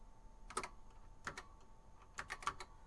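Keys clack on an Apple II computer keyboard, a few quick bursts of typing with short pauses between them, faint and close, with no talking.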